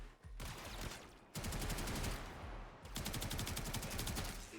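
Weapons fire in the video game Warframe, delivered as sustained bursts of rapid, evenly spaced automatic shots. A short pause separates the bursts, and the firing stays fairly close and moderately loud.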